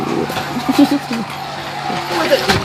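A car brakes hard with its tires skidding, played as a sound effect; a short screech rises over people talking nearby.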